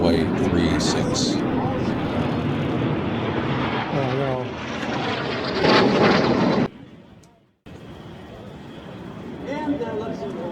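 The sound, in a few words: Canadair CL-215 water bomber aircraft flying fire attack demo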